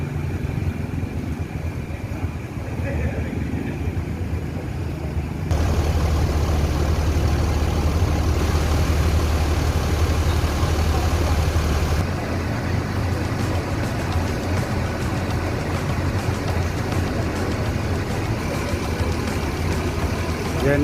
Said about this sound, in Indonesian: Genio Patriot dengan mesin OH1626 air suspensi